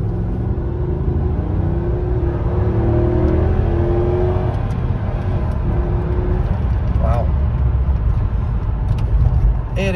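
A 1999 Mercedes-Benz C43 AMG picks up speed from near a stop, its engine a steady low rumble and whir heard from inside the car, close and continuous for the whole stretch.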